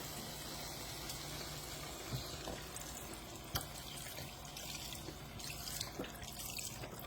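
Beef broth pours into a soup pot for a homemade beef and bean soup, a steady low liquid rush with small drips and splashes throughout, fairly quiet and close.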